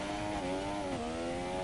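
Simulated Formula 1 car engine in a PS4 racing game at the Italian Grand Prix, a loud buzzing whine whose harmonics climb steadily with a brief dip near the middle as revs build through a gear change.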